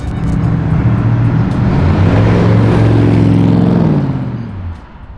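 A 1957 Chevrolet Bel Air engine revs and pulls away, a loud, steady V8-style rumble that rises and holds for several seconds before easing off near the end, with no voices over it.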